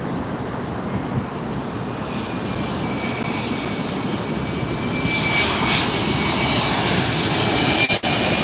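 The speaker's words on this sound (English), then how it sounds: "Flight from SFO coming in now, Embraer 175 United Express" An Embraer 175 United Express jet arriving at LAX from SFO roars steadily, its engine noise and a thin whine rising as it nears. Wind buffets the microphone throughout.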